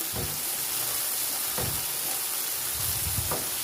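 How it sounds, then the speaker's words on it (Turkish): Minced meat with peppers and salt fries in a pan, a steady close sizzle with soft stirring scrapes and occasional crackling pops. "Biberle şöyle kıymayı tuzla kavuruyorum."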